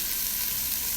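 Brown rice frying in hot oil gives a steady, bright sizzle, close and continuous, with no talk over it.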